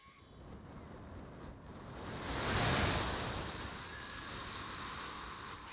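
A voice imitates sea waves rolling onto a beach in Bombay, a soft breathy wash that swells to a peak midway and then eases back to a steady low roar.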